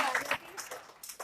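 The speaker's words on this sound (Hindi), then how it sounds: "तालियां" Brief scattered applause from a gathered audience at a spoken Gita teaching session, mixed with voices talking over it.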